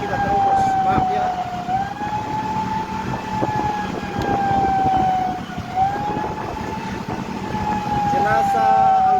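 A wailing ambulance siren sounds loud and close, held steady over traffic noise in a city centre in Poso, while a vehicle follows the ambulance through red lights.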